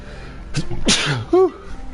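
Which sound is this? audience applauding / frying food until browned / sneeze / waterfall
sneeze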